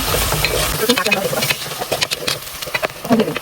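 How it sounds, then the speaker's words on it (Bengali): Chicken and potato curry with garlic and ginger paste is stirred in a hot pan. A close, dense sizzle carries quick scraping strokes of the spoon, with a steamy hiss underneath. "এখন আমি নাড়াচাড়া করবো"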